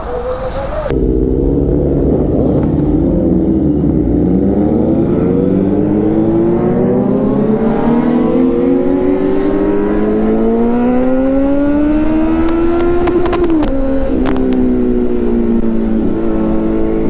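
Loud engines rev and climb steadily in pitch as several superbikes, including a ZX-10R and RC 390, pull away on a group ride, droning continuously close by.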